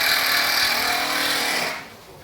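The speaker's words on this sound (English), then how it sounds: "The noise you can hear outside is my dad and my brother on the roof re-roofing my house." Re-roofing on a house roof outside, with steady broadband scraping and grinding like a power tool working roofing material, continuous for about two seconds before dropping away.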